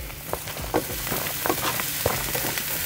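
Hot oil sizzling in a pot as a simple Filipino sauté gets started, a steady crackle with soft clicks and stirring knocks scattered through it, close up and with no voices.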